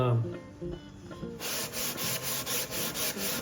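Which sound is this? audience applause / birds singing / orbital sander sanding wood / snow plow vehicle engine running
orbital sander sanding wood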